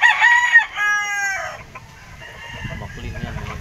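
A McLean gamefowl rooster at a gamefarm gives a loud, close crow lasting about a second and a half, followed by quieter clucking and farm noise.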